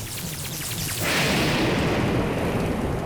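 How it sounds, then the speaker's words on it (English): Rain and thunder in the video game The Legend of Zelda: Breath of the Wild, a steady loud wash of rainfall that swells around the one-second mark into a deep rumbling roar, continuing without talk. "The only problem is it's raining"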